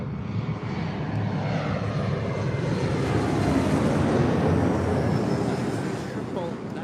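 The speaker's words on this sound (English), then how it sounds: "this is the 777 Japan Airlines." A Japan Airlines Boeing 777-200ER taxis at LAX, its engines a steady, loud, broad roar that holds throughout while a voice talks faintly underneath.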